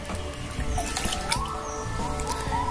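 Water dribbles and drips steadily while a monstera and other potted plants are watered, close and fairly soft, with scattered droplet ticks over a light trickle and faint bird calls in the background.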